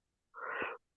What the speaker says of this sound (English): sorry guys, I mean to yawn